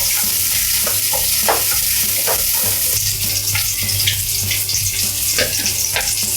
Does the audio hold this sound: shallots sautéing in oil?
yes